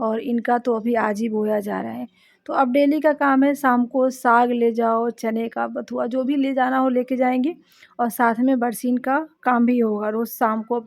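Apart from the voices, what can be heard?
None of the usual background noises is heard.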